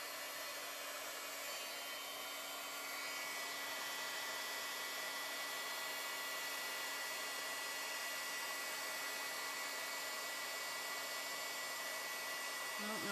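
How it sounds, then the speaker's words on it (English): An embossing heat gun runs steadily, a continuous fan-like whoosh with a faint constant hum, holding an even level from start to finish with no voices. "So we'll bring out the embossing gun. Let it heat up a little bit."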